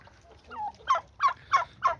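Turkeys gobble nearby in four rapid bubbling bursts after a softer call, each gobble distinct and fairly loud.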